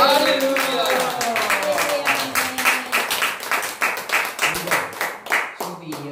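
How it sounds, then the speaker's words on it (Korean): Church revival congregation claps together for their leaders, starting under lingering speech and singing tones, then breaking into distinct, rhythmic hand claps that grow sharper and more separated toward the end. "우리 자신을 위해서 큰 박수 한번 칩시다"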